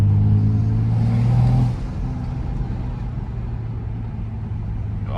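A BMW M235i engine accelerates with a deep, loud drone heard from inside the car, then eases off into a lower steady rumble as the revs drop.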